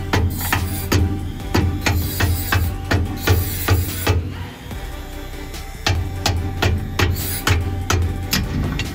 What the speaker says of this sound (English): we're gonna pound the bolt in. So I'm gonna use another bolt to pound it through.